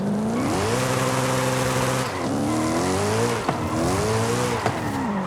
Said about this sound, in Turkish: ya araba drift atıyoruz ya birden tutuyor araba